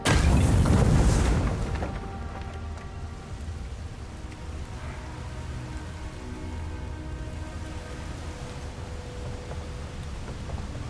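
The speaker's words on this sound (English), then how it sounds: "Grenade." A grenade goes off in the video game Avowed with a loud boom and crackling debris, then fades into a long, softer rattle and hiss.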